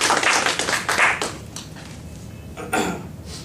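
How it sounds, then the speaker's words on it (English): A small audience claps after a speaker's talk, a burst of scattered, close handclaps that thins out quickly, followed by a few isolated late claps. "So let's give a round of applause to Kaustubh"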